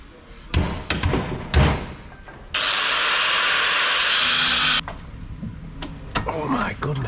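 Sharp hammer blows striking a coilover adjuster on Bilstein Clubsport coilover suspension of a Mini Cooper SD, several loud hits at the start and end around a sustained hiss-like noise in the middle.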